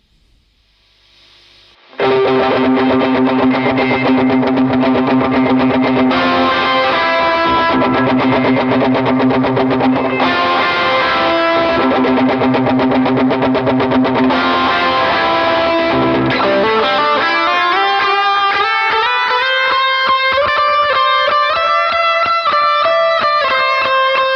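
Distorted electric guitar through an effects plugin in Reaper plays sustained, heavily processed chords with a thick chorus-like shimmer, then slides into rising bent notes, loud and continuous.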